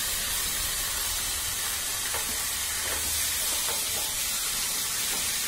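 Chicken marinated in salt and lemon sizzling in hot mustard oil, a dense steady frying hiss with scattered crackles and a low rumble beneath, loud and close throughout with no talking.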